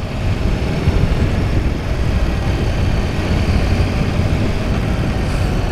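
Cooling fan running on an overheating Yamaha R1 motorcycle, a loud steady whirring drone with low rumble, constant and unbroken for several seconds with no talk.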